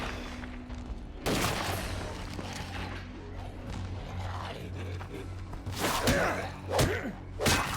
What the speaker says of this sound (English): It'll come up here just from the gunshots